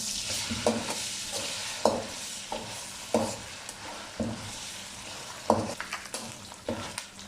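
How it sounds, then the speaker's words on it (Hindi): Mutton frying in a pot with ginger-garlic paste, with a continuous sizzle broken by rhythmic spatula scrapes and knocks about once a second, close and without speech. "अब इसमें अदरक लहसुन का पेस्ट डाल देते हैं। इसे भी 1 मिनट के लिए भून लेंगे।"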